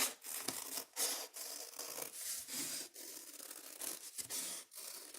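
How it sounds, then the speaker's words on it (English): Scissors cut along a drawn line through paper for a paper snake craft, giving soft, close, rasping snips that repeat irregularly. The sound is quiet and there is no talk. "now I'm going to take my scissors"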